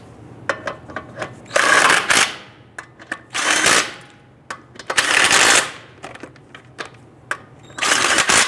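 Wheel lug nuts on a 2005-2010 Chrysler 300 snugged down with an impact tool, in repeated short rattling bursts of varying length separated by quiet gaps and small clicks, close by.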